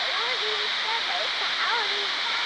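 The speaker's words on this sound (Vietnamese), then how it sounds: "Đây thác đẹp lắm các bạn, rất là đẹp." Pa Sy falls in Mang Den roars in a constant broad wash of falling water, with a voice talking over the rushing.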